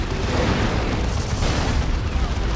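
Orbital strike blast slamming into a bunker in the Warhammer 40,000 strategy game Dawn of War 2, a dense rumbling explosion that keeps roaring at full loudness throughout, with heavy low boom and crackling debris and no talk.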